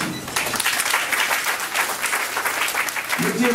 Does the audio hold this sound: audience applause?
yes